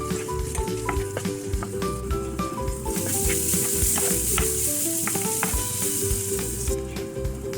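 Onions and green chillies with salt sizzle steadily in a hot pan, with repeated scraping stirs cutting through the continuous loud frying hiss.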